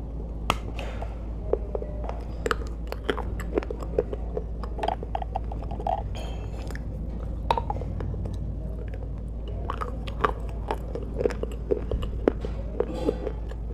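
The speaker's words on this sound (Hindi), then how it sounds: "देखिए तो क्रंच स्टार्ट करते हैं।" Crunchy hakka noodles eaten close up, with a steady stream of crisp bites and chewing crunches over a constant low hum.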